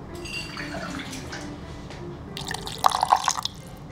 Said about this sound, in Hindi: इसे मैं जार में डालूंगी और इसमें थोड़ा सा पानी डालूंगी, थोड़ा सा, हाफ कप।